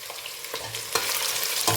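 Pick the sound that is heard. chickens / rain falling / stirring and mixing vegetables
stirring and mixing vegetables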